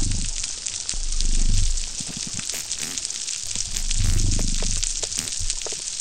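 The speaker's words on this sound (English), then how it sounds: "One potential navigational cue that they may use is the reef soundscape, which sounds like this." Underwater soundscape of a coral reef in Florida, a dense continuous crackling and popping with slow swelling low rumbles, steady and immersive with no voices.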